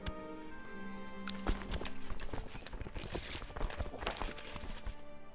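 Horse hooves clip-clop in the Crusader Kings II video game, a rapid run of hard hoofbeats over background game music with tonal notes.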